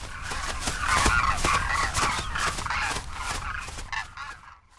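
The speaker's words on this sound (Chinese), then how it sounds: "训练小鹤需要全家上阵。 为了防止小鹤掉队，雌鹤在前带队，2只小鹤紧随其后，" A family of cranes in flight training on a grassland lake, the female leading and two young following, calling in a series of loud, raspy honking cries, several overlapping, fading toward the end.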